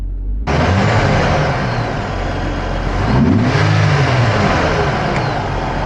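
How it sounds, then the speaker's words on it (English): A Jeep Wrangler engine cranks and catches abruptly, recorded up close from under the hood, then idles loudly with a couple of throttle blips swelling and falling near the end. "Here is startup. Again, I'll be quiet with the camera under the hood. We'll give it gas a couple times."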